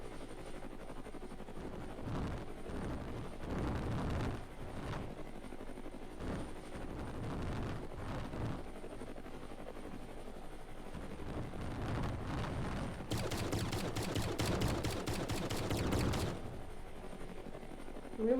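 Missiles firing and exploding in the video game Brick Rigs: a series of separate booming blasts and thumps, followed by a rapid rattling volley of launches near the end, all over a steady engine-like drone.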